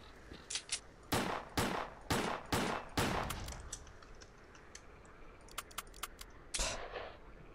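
Gunfire in the shooter game S.T.A.L.K.E.R., a string of sharp, evenly spaced shots followed after a pause by lighter clicks and a final shot, close and punchy with no talking.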